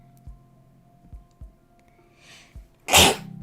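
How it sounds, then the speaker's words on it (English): A single sharp human sneeze bursts out loudly near the end, close to the microphone, after a few soft thumps and quiet room noise during a livestream chat. "sneezed on stream."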